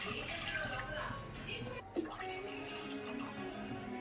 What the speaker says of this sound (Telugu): ఇప్పుడు నేను నీళ్ళు పోసుకుంటున్నాను.